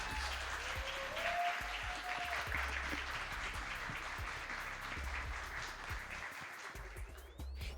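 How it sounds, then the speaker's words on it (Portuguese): Audience applause at a live talk show recording, sustained faint clapping from a crowd that holds steady for several seconds and tapers off at the end. "Preciso de mais palmas, gente"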